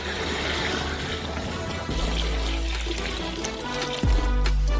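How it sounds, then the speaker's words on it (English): Five liters of water pours steadily into a saucepan holding coffee beans, a continuous splashing rush that deepens in tone as the vessel fills. "Fill them with 5 liters of water."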